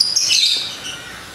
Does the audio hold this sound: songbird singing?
yes